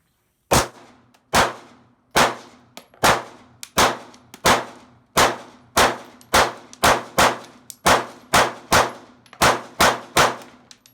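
Taurus G3 pistol firing about fifteen sharp shots at a steady, fairly quick pace, each crack followed by a short ringing decay, with no talking.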